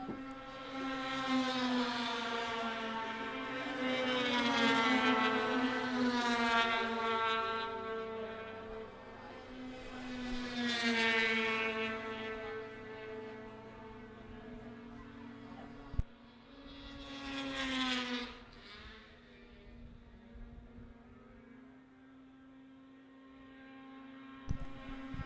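Racing snowmobiles in a Junior 2 Sprint 600 power toboggan race, loud whining engines that rise and fall in pitch as the sleds sweep past one after another.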